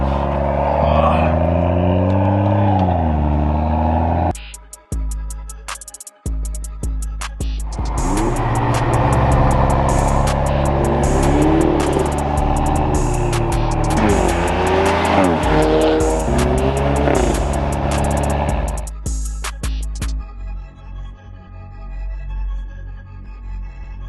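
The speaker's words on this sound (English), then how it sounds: "Your car sounds great back here." A Lexus LS 430 heard from inside the cabin while driving: a loud, steady engine drone with rising and falling revs and a brief dropout early on, then a strong sustained run before it eases off near the end.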